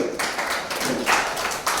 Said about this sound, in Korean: 여러분 박수 한번 주시기 바랍니다